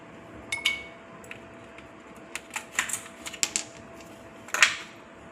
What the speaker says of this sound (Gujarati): હવે એની અંદર ત્રણ ચાર પીસ બરફના ટુકડા નાખી દઈશું